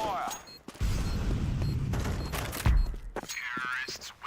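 Counter-Strike 2 gunfire during a competitive match: a loud, sustained volley of shots with mechanical clatter, breaking off near the end as a voice speaks briefly.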